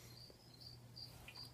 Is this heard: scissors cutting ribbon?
no